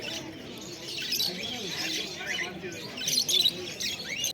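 Black, lutino and pied cockatiels chirp and squawk at a busy bird market, with scattered bright calls over a murmur of background voices.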